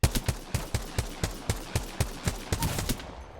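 Rapid gunfire from a weapon in the video game Apex Legends, a steady rhythm of about a dozen sharp evenly spaced shots over a few seconds, loud and close, with no talking.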